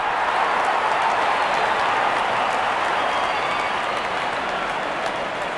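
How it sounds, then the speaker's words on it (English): Crowd applause in the Real Cricket video game, a broad, steady wash of stadium clapping and cheering holding at an even level for several seconds with no voices over it. "Wonderful 50 and the crowd applauds."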